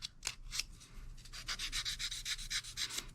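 Fine, rhythmic rasping strokes as small plastic parts of an FF-5 Ascender model kit are sanded smooth, quiet and close with a steady back-and-forth pace.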